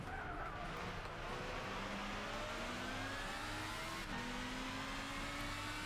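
Super GT500 race cars in Gran Turismo 6 rev hard under acceleration, the engine pitch climbing steadily, with a continuous loud roar and tyre noise underneath.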